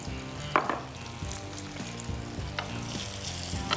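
Paratha roll filling fries in a pan, a soft steady sizzle with occasional clinks and scrapes of a spatula, close and continuous with a hum beneath, and no one speaking.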